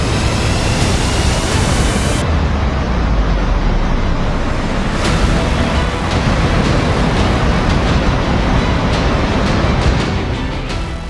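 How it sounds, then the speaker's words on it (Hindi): Floodwater thunders down a mountainside in Chamba, Himachal Pradesh, a loud, unbroken roar of rushing water that stays dense and steady throughout. "पहाड़ से तूफानी रफ्तार में गिरता पानी नीचे तबाही की शक्ल में बह रहा है"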